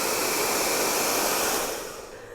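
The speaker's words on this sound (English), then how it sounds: "another thing you might like to make your dragon come to life is a hairdryer" A hair dryer blows on a paper dragon craft, a loud, steady rushing roar that fades slightly toward the end, with no voices.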